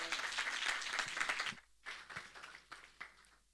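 Audience applause at a church youth meeting, a dense burst of clapping for about a second and a half, then several shorter scattered rounds of claps fading toward the end.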